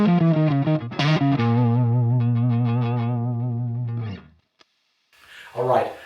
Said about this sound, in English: just go a tiny bit over unity with your fuzz pedal